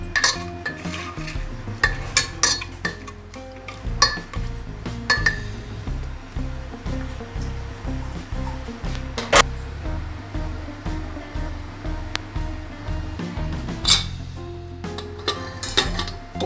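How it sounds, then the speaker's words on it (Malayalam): A pressure cooker holding an ash gourd and green pea curry is shut with its metal lid, giving repeated close clanks and clinks of metal on metal over a steady background. "ഇനി കുക്കർ അടച്ച് വയ്ക്കണം."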